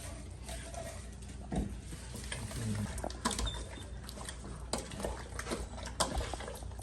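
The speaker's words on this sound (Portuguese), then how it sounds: "Adicionamos o nosso alho, a nossa pasta de alho com sal triturada" Salted garlic paste sizzles softly in a pan for Angolan muamba, a quiet crackling patter broken by a few utensil clinks and taps.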